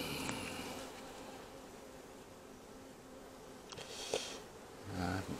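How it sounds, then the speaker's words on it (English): A faint, steady hum of many honeybees buzzing together in an open hive, with a few nearer buzzes passing by now and then. "There's quite a few bees to look at."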